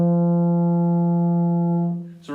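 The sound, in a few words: baritone horn played with buzzing lips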